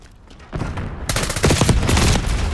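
Dense bursts of automatic gunfire and explosive shots in the Call of Duty Black Ops 6 multiplayer game, starting sparse and building into a loud, rapid, continuous fusillade with no talk over it.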